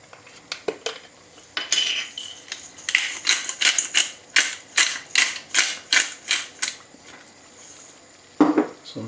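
Pepper mill cranking freshly ground black pepper over pan-fried pork loin, a close run of about a dozen evenly spaced gritty crunching twists, preceded by a few sharp clicks and ending in one louder clack.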